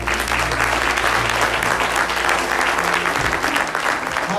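A church congregation claps for the Lord during a gospel sing service: loud, dense, continuous hand clapping from a large group, sustained throughout.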